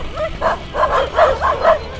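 Several dogs bark and yip in quick succession along a road near Laurel, Batangas, loud and fairly close, roughly five sharp barks in two seconds.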